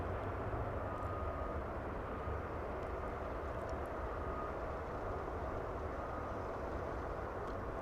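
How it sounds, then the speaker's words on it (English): Aircraft engine hum at Dallas Fort Worth airport during evening plane spotting, a steady low continuous drone holding at the same level throughout with no talk. "I heard the hum of that aircraft"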